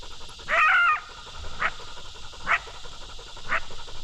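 A hunting dog outdoors during a coyote hunt gives a short whining bark followed by three brief, evenly spaced yips or barks, moderately close over quiet field ambience.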